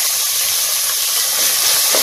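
Hyacinth beans fry with onions in a pan, giving a steady, bright sizzling hiss that continues evenly throughout, close and fairly loud with no talk over it.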